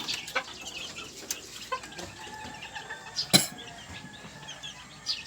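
Bantam chickens cluck softly nearby in short scattered calls, with one sharper squawk partway through against quiet farmyard ambience.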